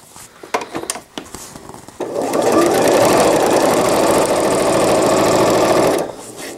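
A sewing machine runs steadily for about four seconds, backstitching an all-in-one cloth diaper, after a few short clicks and taps of handling; the motor's whirring stitch is close and loud, then stops abruptly.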